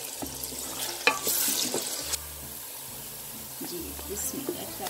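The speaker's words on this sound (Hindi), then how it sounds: "चिकन लगाया है, इसको कुछ देर फ्राई करूंगी" Chicken frying with lightly sautéed onions in ghee for a chicken sonf karahi, a gentle sizzle broken by stirring scrapes and a few louder clatters, with a low hum behind and a voice speaking at times.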